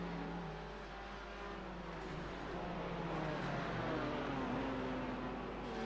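A Porsche race car engine in a sim racing game, a steady hum droning continuously at a distance, fairly faint and with no pauses.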